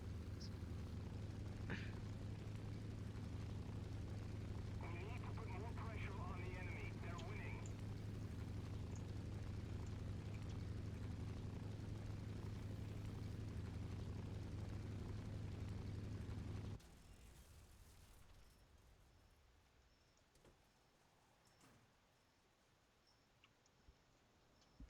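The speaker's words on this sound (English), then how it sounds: "This is a dive bomber." Aircraft engine of a dive bomber without air brakes in the War Thunder video game: a loud, steady low drone with rumbling texture for about seventeen seconds, then cutting abruptly to a faint hiss; faint talk occasionally under the engine.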